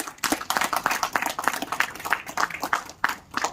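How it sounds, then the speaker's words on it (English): Applause for the entire team breaks out at a BNI leadership event, sharp individual claps from a modest group landing in quick, uneven bursts, fairly close and alone. "Give a round of applause for the entire life team."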